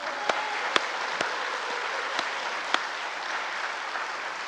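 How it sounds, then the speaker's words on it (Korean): A church congregation at a Sunday gathering in Daegu claps together in a broad, steady wash of applause, with a few sharper individual claps standing out, heard at moderate distance. "박수 한번 보내주셔야 돼요."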